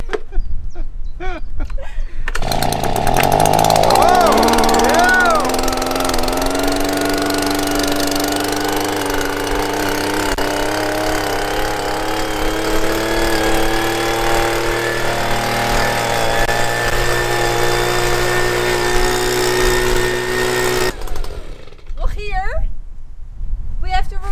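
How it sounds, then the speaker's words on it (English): A leaf blower used as a garden tool at a greenhouse build with reclaimed materials whines steadily at full power for about twenty seconds, loud and close, with a rising start and an abrupt cutoff. "the leaf blower."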